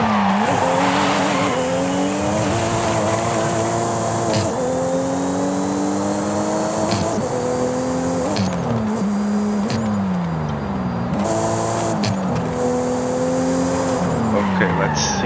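A car drifting in the video game Forza Horizon 6, its engine droning continuously as tires squeal in long wavering bursts that rise and fall with each slide, loud and steady throughout.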